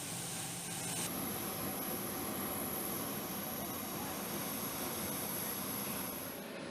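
Steady, broadband jet engine roar from a military surveillance aircraft based on a private jet, constant and fairly loud, with a high thin whine that appears after the first second and holds throughout.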